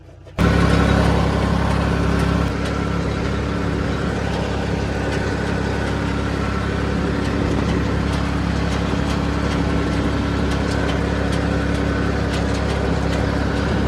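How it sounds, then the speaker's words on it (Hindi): A farm tractor's engine runs steadily nearby, a continuous low idling rumble with no break after a sharp start, and no voices over it. "तो एक ट्रैक्टर लेके डैडी निकल रहे हैं, दूसरा मैं लेकर जाऊंगा।"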